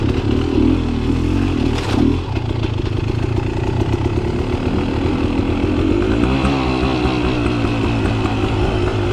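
Beta Xtrainer 300 dirt bike engine running loud and close on an off-road trail, steady two-stroke drone with rapid revving, a sharp burst near the start and choppy throttle and clutch changes later on.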